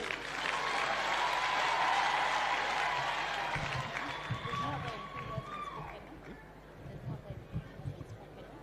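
A large crowd at a political rally in Kirinyaga breaks into loud, sustained applause that gradually fades, leaving crowd murmur and scattered thumps near the end.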